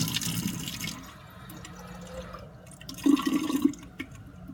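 Tap water from a lab sink runs into a flask, a soft trickling and splashing that swells briefly near the end, heard alone without speech.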